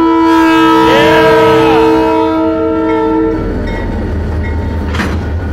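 Georgia Pacific freight train on a Genesee & Wyoming railroad, its loud multi-tone horn blaring for several seconds before giving way to the rumble and clatter of railcars rolling past nearby.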